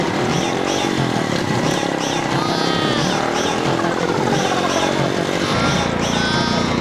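A motorcycle engine revs and drones up close, its pitch rising and falling in waves, with a rough sputter toward the end and no clear talking.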